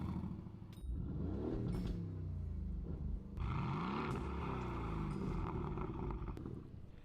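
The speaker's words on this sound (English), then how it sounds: "that's the sound of an AMG engine, more specifically a C63 engine." A deep Mercedes-AMG C63 twin-turbo V8 engine rumbles and revs in repeated surges, its pitch rising and falling, close and loud throughout.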